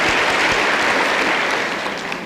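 Dense, loud applause fills a hall during a 1984 Democratic presidential candidates debate, a steady wash of many hands clapping together that holds evenly and begins to taper slightly at the end.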